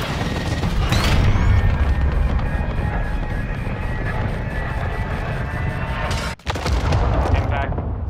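Artillery fire mission raining down in Call of Duty: Modern Warfare II, a loud continuous roar of heavy booms and explosions rumbling throughout, with a sharp cut near the end before the blasts resume.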